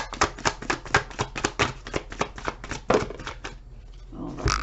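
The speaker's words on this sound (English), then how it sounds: "Let's see, one more shuffle." Rapid riffling of tarot cards being shuffled, a quick run of crisp flicks, a brief pause, then a final tap of the deck.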